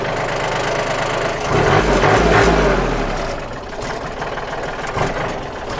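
A used 2015 Kubota L3608SP tractor engine idles close by, its low rumble swelling briefly before settling back into an even, continuous drone.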